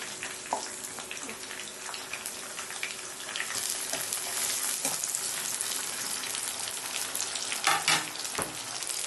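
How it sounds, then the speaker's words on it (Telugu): Chopped onions and green chillies sizzle and crackle steadily in hot oil, with a dense frying hiss throughout, occasional stirring clatters and a few sharper pops near the end. "ఇప్పుడు మన ఆయిల్ వేడైపోయిందండి. ఆనియన్స్ వేసుకుందాం. తర్వాత పచ్చిమిర్చి కూడా వేసుకుందాం."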